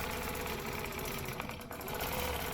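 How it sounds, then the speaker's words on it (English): A sewing machine runs steadily while stitching a spiral circle into a stencil design, giving a continuous, fairly loud mechanical whir with no pauses across the short stretch. "Now I'll spiral in, stitch my circle, and then spiral back out."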